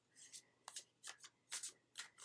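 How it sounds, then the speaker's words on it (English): A deck of oracle cards being shuffled by hand, about six quick crisp riffling bursts in a steady rhythm, close and fairly quiet with no talking. "As I shuffle the deck"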